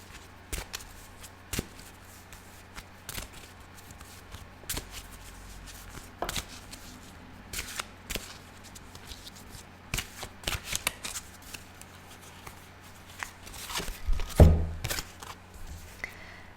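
A deck of tarot cards is shuffled by hand nearby, repeated soft riffling and slapping bursts spaced irregularly, building to a louder flurry near the end, with no voices.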